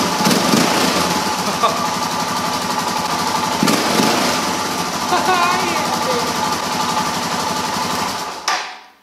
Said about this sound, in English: I haven't heard this bike idle ever.